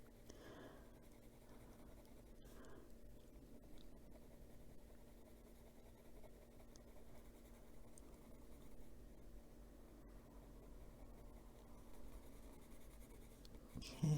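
Soft colored pencil shading back and forth on paper for a page in an adult coloring book, a steady, faint scratchy rubbing that runs close and continuous with no voices.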